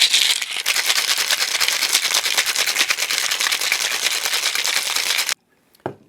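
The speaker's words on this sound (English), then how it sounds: "Now we ice the tin. And give it a really good shake." Ice rattles hard and fast inside a cocktail tin while mixing a vodka cocktail, for several seconds, then stops abruptly, followed by a brief clink.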